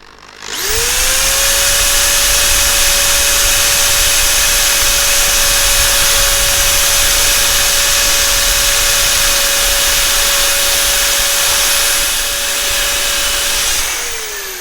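A right-angle drill sands pencil marks off a turned nine-sided wooden plate, a loud steady whine holding one pitch for about thirteen seconds before spinning down, with no talking.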